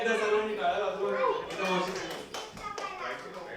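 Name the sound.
guests clapping at birthday celebration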